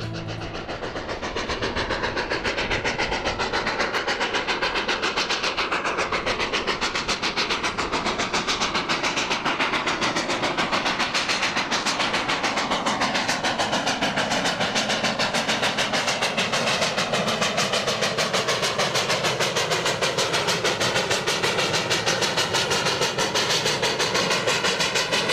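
A restored steam locomotive running on the Nevada Northern Railway in winter, a loud, continuous rumble and rhythmic chuffing with rail clatter that holds steady and close for the whole stretch, no voices.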